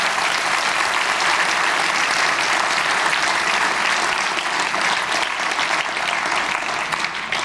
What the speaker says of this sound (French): merci d'avoir applaudi et d'applaudir encore le quintet pentatonique